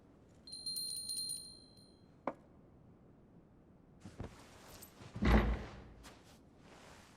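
A small tea bell rings in the video game Final Fantasy XVI, a bright, sustained chime near the start that fades, followed by a few soft knocks and rustles.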